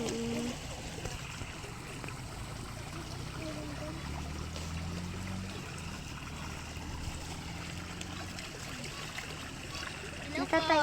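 River water flows in a steady rushing current, continuous and fairly close, with a person talking briefly over it.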